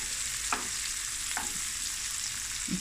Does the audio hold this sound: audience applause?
no